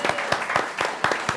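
An audience applauds at a live show in scattered, distinct claps that come in quick bursts over a little more than a second, fairly close and with no voice over them.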